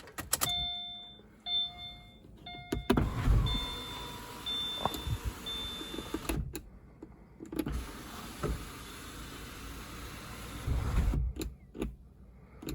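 A sunroof motor on a 2014 Subaru Forester whirs in several short runs, broken by brief pauses, with electronic beeps and tones near the start and soft clicks in between.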